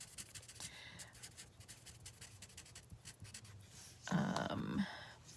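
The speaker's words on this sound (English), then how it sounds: "So you're gonna have to bear with me as I quick write these down." Names being handwritten with a pen on paper during a live craft stream: faint, steady scratching strokes with a louder, brief rustling burst near the end.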